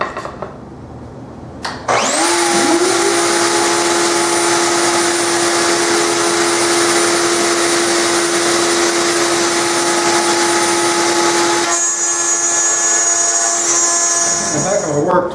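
Router with a 1/4 inch bit cutting grooves in hard maple: a loud, steady high-pitched whine that spins up sharply and holds, the tone shifting slightly near the end as it runs down.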